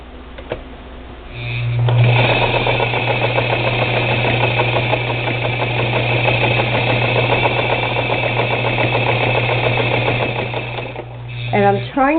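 A sewing machine stitches through a thick knitted garter-stitch quilt backing, a continuous close mechanical whir with a steady hum that starts up, runs evenly for about ten seconds, then winds down.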